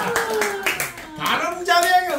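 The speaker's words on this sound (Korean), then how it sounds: "세종님 어머니께도 큰 박수 부탁드려요." Audience clapping at a Korean family gathering or program, steady rhythmic hand claps running throughout with a voice speaking over them.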